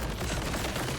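Explosions from grenades thrown at a boss in the video game Borderlands 4 form a dense, continuous rumbling barrage of booms and crackling blasts, loud and sustained throughout with no talking.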